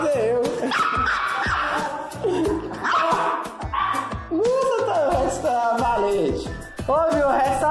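Miniature pinscher dogs bark, yip and whine in a jealous scuffle, rapid overlapping high-pitched barks and yelps close by, with people's voices mixed in.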